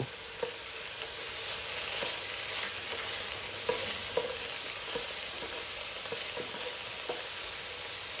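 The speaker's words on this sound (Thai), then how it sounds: "นำโปรตีนเกษตรลงไปผัดครับ เติมซีอิ๊วขาว" Textured soy protein stir-fried with light soy sauce in a pan after garlic has been browned, giving a steady, even sizzle with intermittent sharp spatula scrapes and taps throughout.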